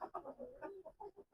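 A Qandhari Hera breed rooster clucking in a quick series of short, close, throaty calls, with no talking.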